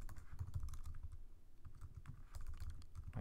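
Rapid, continuous typing on a computer keyboard, the keys clattering close by in a steady flurry with a brief pause midway.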